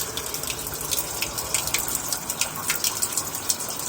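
Steady gushing water drains from an ALCO S6 Model 320F locomotive turbocharger, a continuous splashing, trickling flow with small irregular spurts, fairly close and moderately loud with no talk over it.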